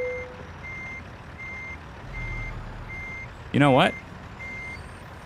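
In American Truck Simulator, a truck backing a large trailer gives steady, evenly spaced reversing beeps under a low engine rumble, while someone speaks briefly over the beeping.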